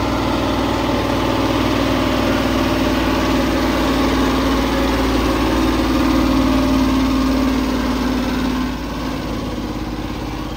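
A car engine roars hard at full throttle during a highway race past a truck, a steady loud drone holding for about nine seconds before easing slightly near the end.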